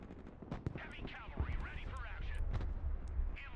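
A rocket strike in the real-time war game Broken Arrow: a dense rumble of blasts and gunfire in the middle distance, with a voice talking over the battle noise.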